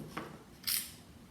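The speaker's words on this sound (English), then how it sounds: "Cut a hole." Scissors snip quietly into junk mail paper to cut a hole, two short close crisp cuts with the second sharper and louder.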